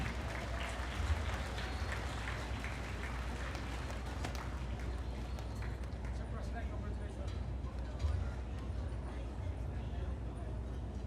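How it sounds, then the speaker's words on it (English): Steady applause from a gala audience fills the clip, sustained and fairly loud without a break, while someone speaks over it. "Let's give another big round of applause to our President, Moises Jun Aglipay."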